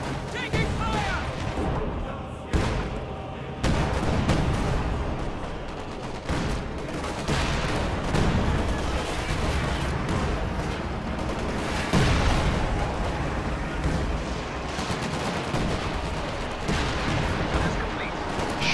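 A WWII strategy video game battle with Sherman tanks, field guns, infantry and Stuka dive bombers produces continuous overlapping gunfire, booming artillery and explosions, with game voice shouts mixed into the dense combat noise.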